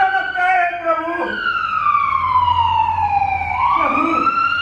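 A loud police siren wails close by, sweeping slowly down and then climbing back up in a long tone. A low vehicle rumble runs beneath it, heard as part of a Hindi stage play.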